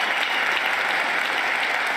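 Dense, sustained applause from a large crowd in the chamber during a State of the Union address, a loud even roar of clapping that never lets up.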